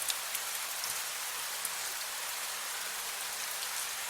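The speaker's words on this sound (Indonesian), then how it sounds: "Hujannya kok deres amat sih?" Heavy rain pours down steadily in a wet, broadband hiss, with a few scattered nearby drips and no voices.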